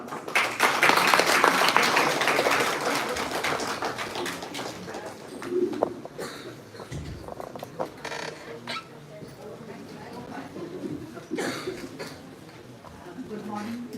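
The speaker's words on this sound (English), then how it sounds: "Let us welcome Dr. Meenakshi Jain with a big round of applause." Audience applause welcoming a lecturer at an anniversary program swells loudly at first, then thins to scattered claps while birds coo and people talk in the background.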